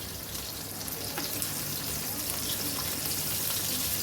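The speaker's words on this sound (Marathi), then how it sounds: "आपण सिमला मिरची टाकल्यानंतर तडतड उडते" Capsicum sputtering and crackling in a covered pan over low heat, a steady close hiss of frying with faint scattered pops, no voices.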